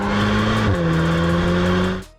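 Volkswagen Golf R engine revving hard toward the red line, a loud, close, continuous rising engine note that drops as it shifts partway through, then cuts off abruptly at the end.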